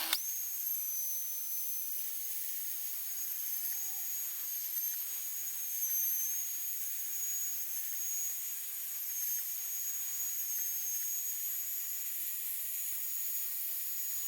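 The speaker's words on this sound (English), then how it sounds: "Now to cut out the box from what I thought was 6mm plywood." DIY CNC router cutting plywood with a 6mm carbide two-flute straight router bit, a steady high-pitched spindle whine with airy cutting hiss, continuous and even at moderate level, no talking.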